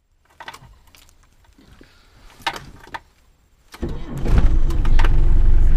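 A camping-car engine cranks and catches partway through, then settles into a loud, close, rumbling idle that runs to the end. Quieter clicks and thumps come before it.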